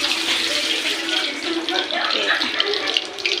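Hands being washed under a running kitchen tap while cooking a quail roast, a steady broad rush of water splashing throughout, with a brief spoken word over it.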